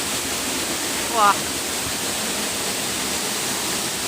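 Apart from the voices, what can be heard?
water flowing down Saeng Chan waterfall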